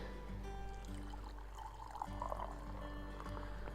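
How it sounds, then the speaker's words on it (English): Spruce tip tea, brewed about five minutes, is poured into a cup: a faint, steady liquid trickle that runs quietly for a few seconds without any talking. "my tea has been brewing now for about 5 minutes, and I'm just going to pour it in"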